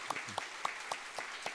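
Church congregation at a Friday worship service welcoming four missionaries with applause: soft, evenly spaced claps beating in a steady rhythm, fairly quiet and distant throughout.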